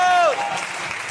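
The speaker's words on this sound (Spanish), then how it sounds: "A ver, un aplauso, por favor." Crowd applause at a board game presentation during a convention in Buenos Aires, a loud burst of clapping with a voice shouting briefly over it at the start.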